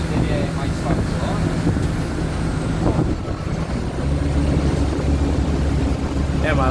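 A Mercedes-Benz OF-1722M city bus engine drones and rumbles continuously from inside the vehicle on a route, low steady roar with shifts in load, while people talk over it.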